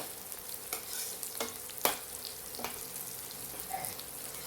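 Onions and cashew pieces frying in a pan for a spicy chicken curry, a soft continuous sizzle broken by a few light stirring clicks and one sharper tap of a spoon.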